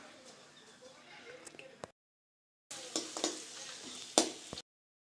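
Hot oil crackles and sizzles steadily as dried vegetable vadagam fries, broken by a short silence, with a few sharp clinks of a utensil.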